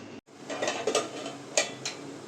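A lid set on a pot of water brought to the boil: a few close metallic clinks and light clatter over quiet kitchen background, with no talk.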